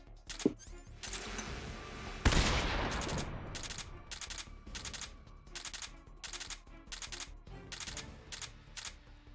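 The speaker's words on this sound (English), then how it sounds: "And we need to keep shooting through that." Rapid bursts of gunfire in the video game Metal Gear Solid 3: Snake Eater HD, fired during a boss fight, come as repeated clattering volleys with one loud blast near the middle, dense and close.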